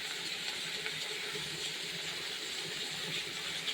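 Spring onion greens fry gently on low heat, giving a steady, quiet, even sizzle and hiss with no breaks.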